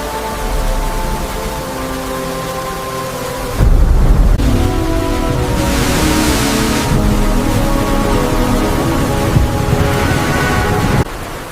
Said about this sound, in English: The rain is just unbelievable. The rain hasn't stopped for a second.